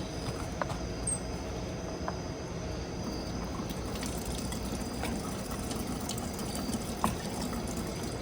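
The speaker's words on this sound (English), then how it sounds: "You can't see it, but I'm washing my hands." Water running steadily as hands are washed outdoors in the dark, a continuous broadband splash with a few faint clicks, fairly close and with no talking.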